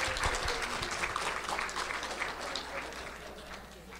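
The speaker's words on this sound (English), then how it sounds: "Can we give them another round of applause?" Steady applause from an audience fills the clip, a dense patter of clapping that holds at an even level and eases slightly toward the end.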